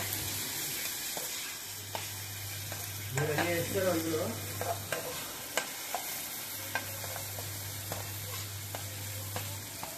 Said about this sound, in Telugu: అదే బాగా కలుపుకోవాలి. బాగా కలిపి జంగాలి.